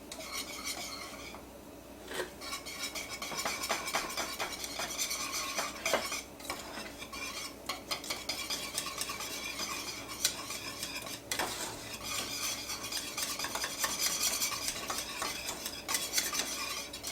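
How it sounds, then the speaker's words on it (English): Butter being stirred into chocolate syrup in a pot, with steady scraping and clinking of a utensil against the pan, occasional sharper knocks, and a soft bubbling sizzle underneath throughout, no talking. "So we're just going to stir this in until the butter melts"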